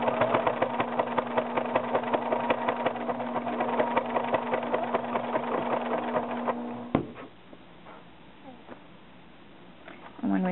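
A domestic sewing machine stitching fabric for a wrap skirt, a fast rhythmic whirring hum for about seven seconds that stops abruptly, followed by quieter handling noise and a voice speaking.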